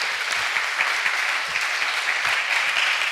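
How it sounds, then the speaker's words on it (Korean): A church congregation claps together in praise, dense, steady applause close by that fills the whole moment without a break. "우리 박수로 우리 하나님께 영광을 돌리겠습니다"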